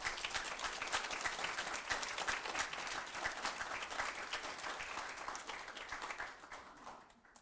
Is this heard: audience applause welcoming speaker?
yes